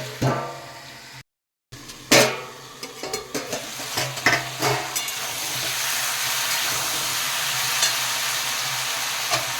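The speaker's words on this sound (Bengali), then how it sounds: "কুমড়ো আলু অনেকটাই মজে গেছে আবার একটু নাড়িয়ে ঢাকা দিয়ে রাখবো" Pumpkin and potato with fish head cook in a pan, a steady hiss of sizzling under a burst of scraping, stirring strokes that fade into continuous frying.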